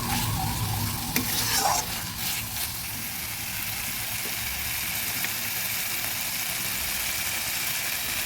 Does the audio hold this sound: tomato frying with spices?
yes